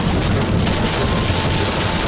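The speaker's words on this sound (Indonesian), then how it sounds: "hujan lebat nih guys" Heavy rain falls during a road trip drive from Palembang to Jakarta, a dense, loud, steady roar of water and hiss with no gaps, nothing else standing out.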